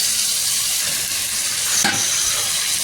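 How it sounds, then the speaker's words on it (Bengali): Spice masala stirred and sautéed in a hot pan, a steady close sizzle and frying hiss with soft scraping stirs and one brief louder clatter near the end. "এখন ভালো করে একটুখানি নাড়াচাড়া করে কষিয়ে নেবো"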